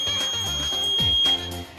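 Buzzer alarm of an automatic flood detector, a steady high electronic tone sounding continuously and loudly up close, with no talk.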